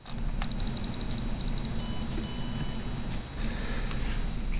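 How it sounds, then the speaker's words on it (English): Serial data logger with timestamp emitting a series of short high electronic beeps on power-up, about eight quick regular tones followed by a longer tone, clear over a steady low background hum. "Put the card in first, then power up, and listen for the beeps."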